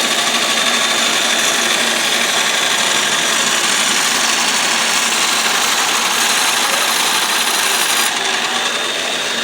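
A knife blade is held against a powered grinding wheel, producing a loud continuous whirring and grinding drone that holds steady for the whole stretch, with no talk.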